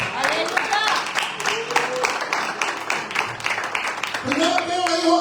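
A church congregation claps together in steady rapid applause during a Spanish-language sermon, with voices and shouts mixed in throughout.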